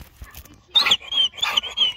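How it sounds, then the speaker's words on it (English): A dog makes short, high whimpering and panting sounds in a few quick bursts during a Sunday morning off-leash walk. "I hear another dog"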